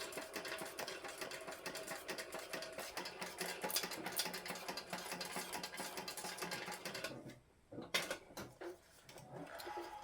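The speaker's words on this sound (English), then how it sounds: "Back stitch all the way to the back, forward." A sewing machine back stitches a pouch seam in a fast, continuous mechanical whir. It stops briefly near the end, then a short burst follows, close and moderately loud, with no talk.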